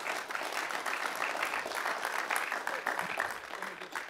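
Audience applause at a university lecture series, a steady spread of clapping from a seated crowd that holds at moderate level for about four seconds, fairly distant and even.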